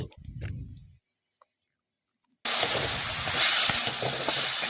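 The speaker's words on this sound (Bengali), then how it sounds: "ব্রকলির গায়ে যতক্ষণ জল থাকবে আমি কিন্তু নাড়াচাড়া করে জলটা কড়াইয়ের মধ্যেই শুকিয়ে নিচ্ছি" Broccoli stirred and fried in a wok gives a loud, dense sizzle and hiss that starts abruptly after a short voice and a quiet pause, then continues steadily to the end.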